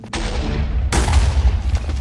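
In Minecraft 1.20.2 survival, a creeper blows up with a loud, close, roaring blast. A second heavy burst follows about a second later, and the rumble fills the whole clip with no talking.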